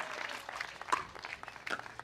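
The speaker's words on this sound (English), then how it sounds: "Crowd backing them up here." Spectators at a PPA Newport mixed doubles pickleball match clapping and cheering, a fairly quiet, distant wash of applause with a few brief louder bursts.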